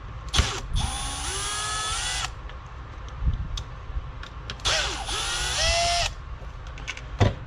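Two bursts of a power drill or driver, each whirring up in pitch and cutting off, remove screws from an RC car being converted from a Rustler to a Bandit; close and loud, with ratcheting clicks and handling knocks between, no speech.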